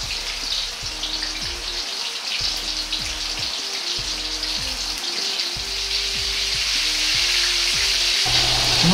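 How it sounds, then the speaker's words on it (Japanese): Gyoza dumplings deep-frying slowly in oil over low heat: a steady, dense crackling sizzle that swells slightly toward the end, with faint irregular low clicks underneath and no speech. "ここから中まで火が通るまで弱火でじっくりと揚げていきます。"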